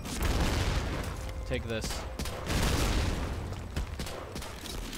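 Grenade blasts and gunfire from the James Bond Nightfire video game on Xbox: dense bursts of shots and booms fill the clip, with a player's voice speaking briefly over the barrage.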